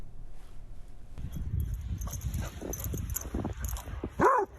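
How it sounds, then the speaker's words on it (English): Milo the Basset Hound plays in snow with scuffling and snuffling close by, ending in a sharp, high yip. "Milo the Basset Hound having a ball"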